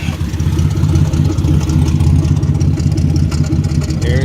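A steady, low rumbling turbocharged Chevrolet S10 V6 idles continuously with a throaty exhaust drone through a 2.5-inch exhaust with a 12-inch glass pack, close and fairly loud, no voices.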